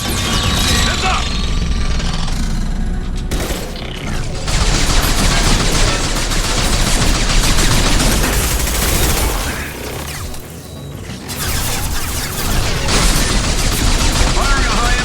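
High-impact gunfire in Mass Effect 2 during a battle: dense, loud bursts of shots and booms run almost continuously, with brief lulls and a voice talking over the fighting.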